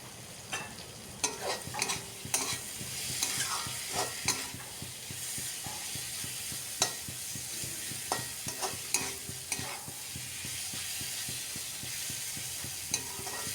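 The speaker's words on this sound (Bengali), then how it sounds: "বারবার নাড়িয়ে এইভাবে আলুটাকে খুব ভালো করে কষিয়ে নিচ্ছি মশলার সাথে।" Potatoes are stir-fried in plenty of oil with onions and spices, a steady close sizzle broken by repeated scraping and clattering stirs, with no talking.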